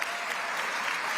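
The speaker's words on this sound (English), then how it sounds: "let's give Food Link an amazing round of applause" An audience applauds at a New York state government event, a brief, dense burst of many hands clapping at once, with no talk over it.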